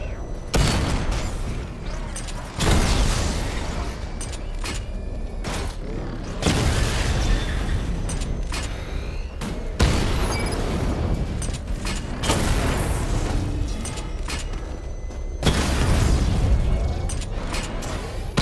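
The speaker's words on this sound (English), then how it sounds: "Charge up missile barrage to level 2 and destroy 4 active targets to complete diagnostic test." Missile barrage explosions from the Batmobile in Batman Arkham Knight: several heavy booming salvos, each a loud burst that rumbles and fades over a couple of seconds, separated by brief lulls, with mechanical clatter and a voice underneath.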